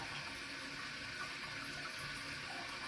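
A toilet tank slowly refilling with water after a flush, following replacement of a leaky flapper with a Korky Universal Ultra 2-inch flapper; a steady, soft hiss of flowing water continues throughout without talking.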